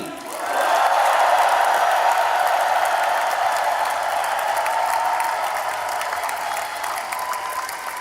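A large party convention crowd bursts into warm applause for two lawmakers at a presidential nomination acceptance event, the clapping swelling in after a brief pause and holding as a dense, steady roar.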